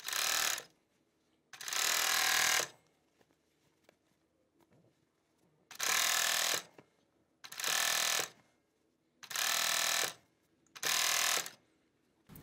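A 4-thread Jack overlock sewing machine stitches a ribbed cuff onto a sweatshirt sleeve, running in five loud, steady bursts of about a second each, separated by quiet pauses.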